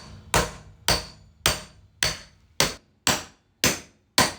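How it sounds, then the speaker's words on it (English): A hammer strikes a socket eight times at an even pace to drive out a poly bushing sleeve on a BMW E28 subframe over a wooden block, each blow a loud, sharp crack with a brief ring, near and alone. "right now we're just whacking out the sleeve to the poly bushings right here."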